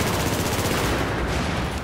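A FAMAS assault rifle fires in the video game Battlefield 4, a dense, loud, unbroken stream of rapid automatic shots that fills the whole moment with no pause.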